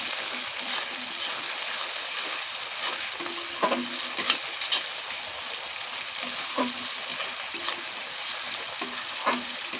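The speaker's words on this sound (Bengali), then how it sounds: "এবার পুরো মশলাটাকে আমরা কষবো ভালো করে" Spice masala with turmeric and chili powder fries and is stirred in a pan for restaurant-style chicken curry, a steady close sizzle with intermittent spatula scrapes and clinks.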